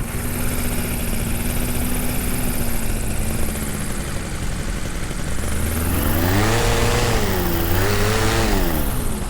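A small aircraft engine held at wide open throttle in flight, droning loud and constant with a steady tone that rises and wavers toward the end as speed changes, under heavy wind rush.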